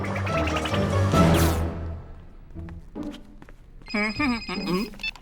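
A telephone rings with a bright, repeating bell tone at the start, loud and close, then fades as people speak in French and the room goes quieter.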